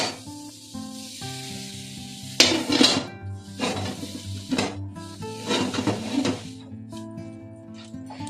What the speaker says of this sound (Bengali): দেখো আমি এই কড়াইটা ঢাকা দিচ্ছি, বড় একটা কড়াই আছে আমার